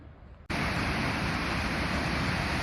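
A waterfall beside an Icelandic mountain trail, a steady broadband roar of falling water that cuts in abruptly and continues loud and unbroken, with no voices.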